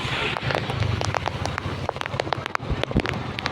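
Rain patters steadily beside a swelling river during a monsoon storm, with close drops and splashes ticking over a constant rushing wash, some wind buffeting the microphone.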